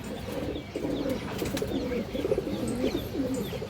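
Dobash pigeons cooing in a fancy pigeon market, a steady run of low, rolling coos repeating close by throughout, with faint background clatter.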